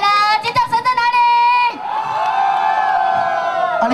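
A crowd at a stage show during a temple celebration in Xiushui, Changhua, Taiwan, screams and cheers in loud, high-pitched bursts and sustained shrieks, close and dense throughout.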